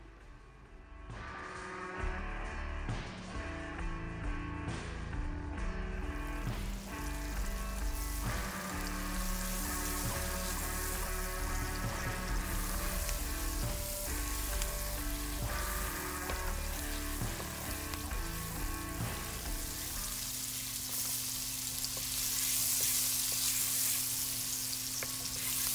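Curry paste for curry shrimp fries in a pan with a continuous, fairly quiet sizzle and crackle that runs unbroken throughout.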